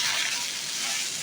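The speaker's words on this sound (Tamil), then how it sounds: "அதில் போட்டு நல்லா வதக்கிக்கோங்க." Steady hiss of chopped ivy gourd sizzling in hot oil, close and continuous, without voices.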